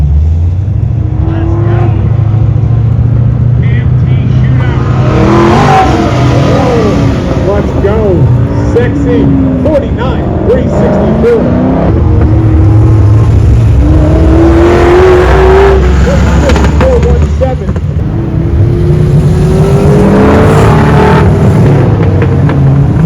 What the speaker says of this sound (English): So driving Zukowski's Corvette is Mike